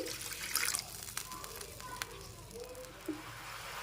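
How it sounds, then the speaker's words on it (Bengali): A little water is poured and mixed into a tangy Rui fish curry with tamarind, heard as a short close splash and trickle over a soft background hiss, followed by faint clinks. "সামান্য পরিমাণে জল মিশিয়ে নিচ্ছি"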